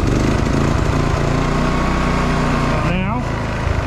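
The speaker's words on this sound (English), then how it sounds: "So turn on. You can hear that pump." Generator engine running with a pump attached, a loud constant buzzing drone close by, while someone talks briefly over it near the end.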